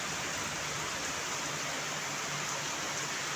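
Heavy rain pours steadily at an abandoned college, a dense, even hiss of water drumming on surfaces with runoff flowing, continuous and without voices.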